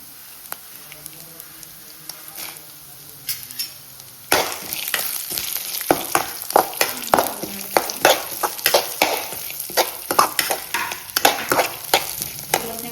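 Roasted gram (putani) frying in a pan over a gas flame for karadavalakki, with a dry hiss and a quiet start, then louder after a few seconds, broken by many sharp scraping clinks of stirring.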